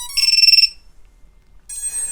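A ViFly Finder drone buzzer lets out a loud, rapid burst of shrill electronic beeps for about half a second, then falls silent before a second harsh tone starts at the end.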